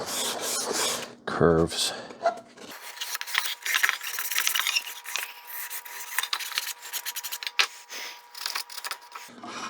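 Sandpaper rasps across the curves of a wooden cremation urn in quick, uneven back-and-forth strokes, close and fairly loud, with brief talk near the start.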